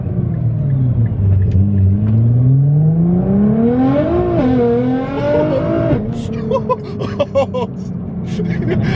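Nissan GT-R Alpha 9 engine roaring from inside the car during a ride, loud and close, climbing steadily through the revs before a shift, with people talking over it.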